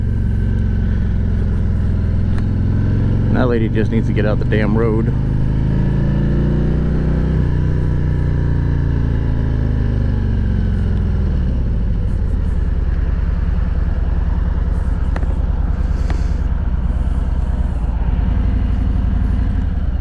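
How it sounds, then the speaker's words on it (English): A motorcycle engine held at high RPM while riding in traffic, a loud steady drone with wind rush throughout, rising and falling slightly in pitch, while a rider talks briefly over it. "I'm sitting high on the RPMs right now because, well, I don't need to be lugging the engine."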